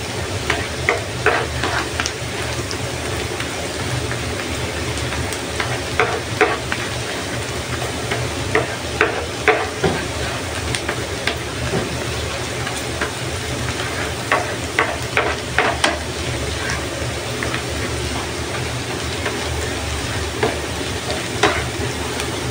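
Garlic sautéing in a pan while a squid and zucchini dish is made, a dense continuous sizzle with frequent clicks and scrapes of stirring throughout, close and steady.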